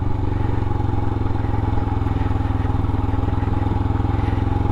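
Royal Enfield Himalayan or Kawasaki KLR 650 motorcycle riding a desert dirt road among Joshua trees and yucca, a steady close thumping engine with even rapid pulses and faint clatter throughout, no talking.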